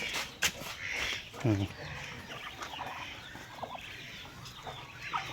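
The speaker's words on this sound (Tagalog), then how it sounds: "Yan, mga pato natin." Ducks quacking and squawking in an outdoor yard, with a few louder calls standing out over steady background noise and occasional voices.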